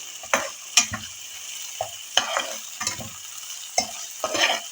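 Raw, unboiled peas frying in ghee, with a crackling sizzle broken by repeated stirring strokes and scrapes of a spoon against the pan, about eight distinct bursts in quick succession.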